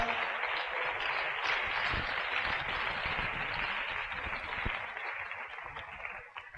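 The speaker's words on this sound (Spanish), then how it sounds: "Si le quiere dar fuerte el aplauso al Señor, déselo, hermano, con libertad." Church congregation applauding during a sermon, a dense, steady wash of many hands clapping that fills the space and gradually tapers off toward the end.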